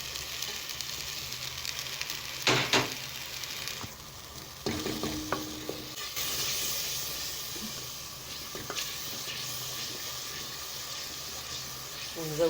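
Chili sauce and stock cubes frying in a pot for Egyptian koshari, a steady close sizzle and hiss broken by spoon-against-pot scrapes and clinks as the mixture is stirred.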